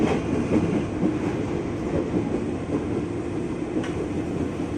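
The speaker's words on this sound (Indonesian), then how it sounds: "tumben nih kereta kita melaju lambat padahal baru berangkat Manggarai" A 12-car KRL commuter train running slowly just after leaving Manggarai, heard from inside as a steady low rumble with soft rhythmic wheel clatter, continuous and moderately loud.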